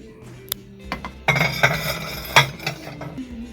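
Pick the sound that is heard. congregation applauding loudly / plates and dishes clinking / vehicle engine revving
plates and dishes clinking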